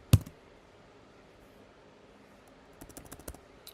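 A few quick keystrokes tap on a computer keyboard, one sharp click at the start, then a brief cluster of light typing after a quiet pause.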